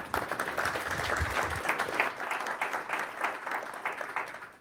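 An audience at a Providence mayoral forum applauds, with dense, steady clapping from many hands in a hall that thins slightly toward the end, and faint voices underneath.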